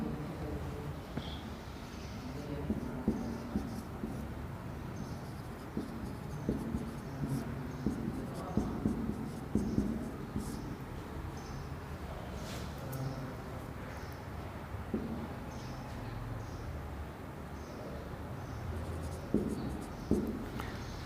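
A teacher writes a sentence on a board during a Hindi grammar lesson on adjectives, making soft scratching strokes with small taps. The writing sounds run faintly and steadily for about twenty seconds without talk.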